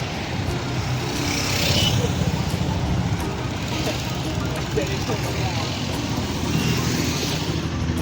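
Many vehicles stream past on a congested road near a temple during a palkhi procession, making a steady roadway hum with passing cars and trucks while people talk nearby.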